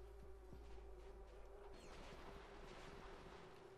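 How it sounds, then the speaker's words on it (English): Steady insect-like drone of buzzing bee creatures in Ratchet and Clank: Going Commando, a continuous low hum with a faint whine rising over it, quiet and alone with no talk. "I can hear some more bees."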